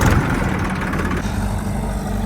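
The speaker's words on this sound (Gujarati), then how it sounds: "એક ટ્રેક્ટર ભરાઈ ગયું અને એ છે વિપુલવાળું ટ્રેક્ટર ને આ છે આપણું ટ્રેક્ટર." A tractor engine runs steadily at idle, a loud, close, low rumble while the trailer is loaded, with no voices over it.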